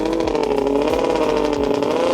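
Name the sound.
140HP ATV engine revving at full throttle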